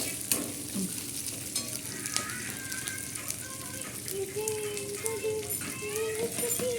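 Capsicum fries and is stirred in a pan at home, a steady sizzle with scraping stirs and clatter of the utensil, close and moderately loud, with faint background voices.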